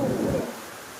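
Wind gusts across Achara beach, a strong, close low rumble buffeting for a moment before easing into a softer, steadier blow.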